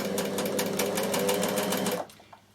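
A Bernina sewing machine stitches steadily with a fast, even mechanical whir and rapid needle rhythm, close and fairly loud, running alone for about two seconds before stopping abruptly.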